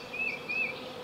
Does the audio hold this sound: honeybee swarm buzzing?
yes